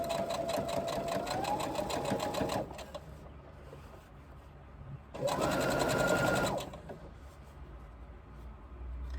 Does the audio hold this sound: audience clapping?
no